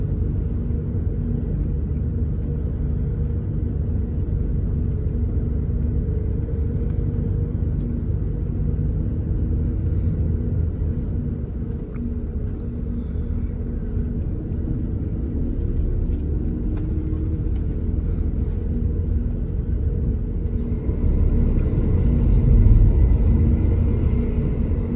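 A low, steady engine rumble fills the interior of an overnight intercity bus travelling from Hat Yai to Kuala Lumpur, a constant drone that swells slightly toward the end.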